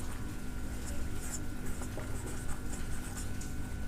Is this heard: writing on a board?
yes